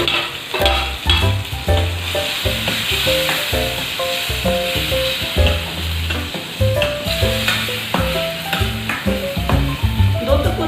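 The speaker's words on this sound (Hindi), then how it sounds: "तो चलिए अब हम इसमें ग्राइंड किया हुआ टमाटर डालेंगे" Ground tomato sizzles and crackles loudly in a pan of frying onions, with steady spattering and repeated scraping stirs throughout, no voices.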